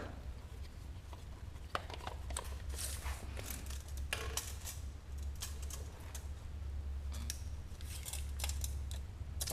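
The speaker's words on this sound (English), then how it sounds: "Tape measure time." A tape measure is worked in a garage during a Porsche 944 rally build's front suspension work, giving scattered sharp clicks and metallic snaps over a steady low hum, close and fairly quiet.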